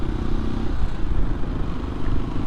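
A motorcycle rides a winding mountain road toward Gangotri in the Harsil Valley, its engine a steady, close drone with no voices.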